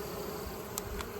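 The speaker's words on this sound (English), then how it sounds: "A lot of good signs here that they're fanning at this entrance." Honeybees from a second swarm fanning at a hive entrance, a steady dense buzzing hum close by with no voices.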